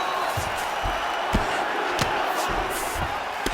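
Arena crowd in the UFC 5 video game reacting to a strike during a women's bout between Ketlen Vieira and Alexis Davis, a steady roar of cheering with several sharp thumping impacts scattered throughout.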